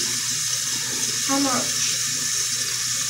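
Cold water runs from a tap into a container in a steady, close rush, and a short spoken question cuts in partway through.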